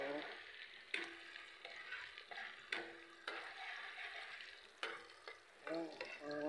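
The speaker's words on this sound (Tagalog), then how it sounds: "Gigisa lang natin yan guys" Chopped onion and a little ginger sauté in a pan for chicken pastil, a steady close sizzle broken by repeated scraping stirs, with a few faint voice-like tones through it.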